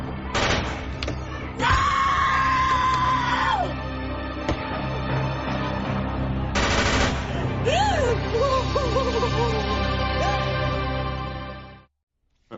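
Police gunfire bursts in a tense scene, loud and sustained, mixed with screaming and a shouting voice over a dense, dramatic background.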